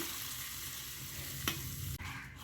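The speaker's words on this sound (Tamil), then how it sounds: "நான் கொஞ்சம் எண்ணெய் சூடு பண்ணி இதில் ஊற்றுறேங்க" Hot oil hitting lemon pickle, a faint steady sizzle with one brief crackling burst and a soft knock near the end, heard alone without speech.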